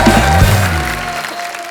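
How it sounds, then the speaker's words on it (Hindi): A loud, brief burst of studio audience applause on a TV comedy show stage, mixed with tonal music that fades out after a second or so. "जोरदार तालियां"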